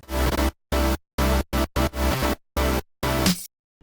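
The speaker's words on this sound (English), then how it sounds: "basically just gives it that pulsing sound." Synth bus rhythmically ducked by the Kickstart sidechain plugin, giving a pumping, pulsing effect in a trap-style beat: loud, dense bursts of sound chopped by sharp gaps of silence, about eight pulses over a few seconds with no talking.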